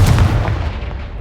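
A Confringo blasting spell detonates in Hogwarts Legacy, a loud booming blast with a sharp onset and a rumbling low tail that fades over about a second, with no talk over it.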